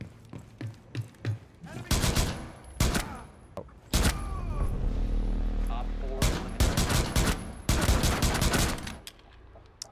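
Gunfire in the shooter game Rainbow Six Siege comes in loud, close bursts of rapid automatic shots separated by short pauses. A sustained rumble carries between the volleys, and a voice can be heard faintly under the noise.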